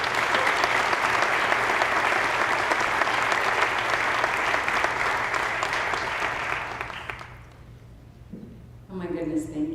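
An audience at a school parents' meeting claps in a loud, sustained round of applause that fades out near the end, then a voice begins speaking.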